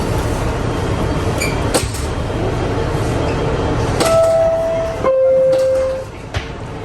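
A New York 6 train rumbles and clatters as it pulls away from Parchester station toward Pelham Bay Park, with a brief two-tone chime and door clunks partway through.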